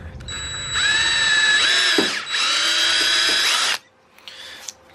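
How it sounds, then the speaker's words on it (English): Power drill boring through a plastic bumper on a Miata, a loud steady whine with a brief dip midway, running about three seconds before stopping abruptly, followed by faint handling noises. "Now all I'm gonna do now is just drill through it."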